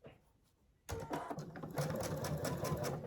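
A sewing machine stitching quilt pieces starts up after a brief quiet moment and then runs steadily, close and loud, with a rapid, even mechanical whir and clatter.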